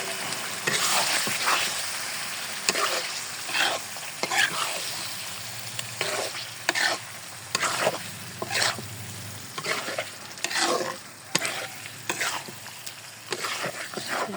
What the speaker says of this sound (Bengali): গোশটা ভালোভাবে 5 মিনিট মতো আমি কষিয়ে নেব।